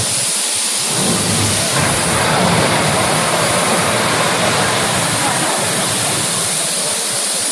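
A thousand gallons of water crash down a chute into a studio tank, a loud, close roaring rush that swells in and holds as a powerful, continuous torrent.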